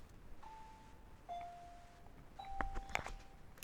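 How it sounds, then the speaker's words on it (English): Electronic school bell tones marking the change of period, sounding as a few sustained beeps and pitch steps over a quiet classroom background, with sharper ding-like hits near the end. "that is the bell to say that you need to go to 5th period"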